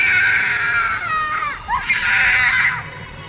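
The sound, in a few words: screams of a person surrounded by evil spirits in a horror story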